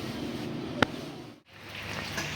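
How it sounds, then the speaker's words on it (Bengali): Rain falls steadily on a rainy village day, a continuous soft hiss with a single sharp tap and a brief dip in the wash of sound. "এখনো বৃষ্টি হইতেছে"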